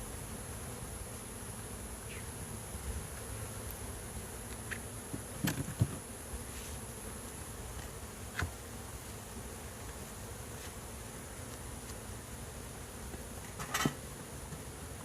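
Honey bees drone steadily around a very big, tall hive. A dense, continuous buzz holds at an even level for the whole stretch, with a few faint knocks and ticks nearby.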